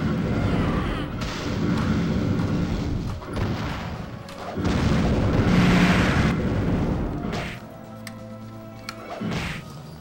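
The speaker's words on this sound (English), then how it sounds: "A game where you could get missile launchers and French bread." Missile launcher blasts from the beat-'em-up video game Dynamite Cop boom in several heavy explosive bursts with rumbling tails, loud and close, broken by short gaps.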